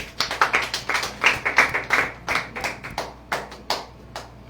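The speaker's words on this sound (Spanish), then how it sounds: "Den un fuerte aplauso al Espíritu Santo." A church congregation claps in a brisk, rhythmic pattern of distinct, close claps, fairly loud and steady, with no talk over it.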